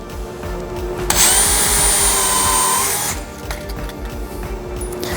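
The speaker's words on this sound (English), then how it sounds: "I'll take my drill." A power drill drives a small screw into a climbing hangboard mount with one steady whirring run of about two seconds, loud and close over continuous background music.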